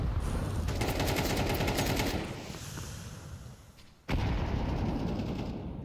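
Pistol gunfire in a Counter-Strike match at a BLAST Premier tournament: dense bursts of rapid shots, a brief quieter lull, then a sharp crack and more firing.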